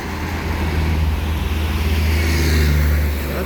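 Fast traffic rushes along a national road in Tunasan, Alabang, Muntinlupa, a continuous loud low rumble of engines and tyres swelling as vehicles pass close by, with no talk.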